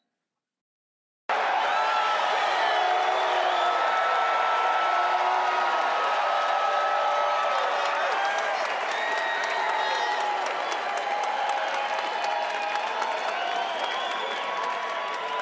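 A large crowd cheers and applauds, a dense, continuous roar of clapping and whoops that bursts in abruptly after a second of silence and holds steady to the end.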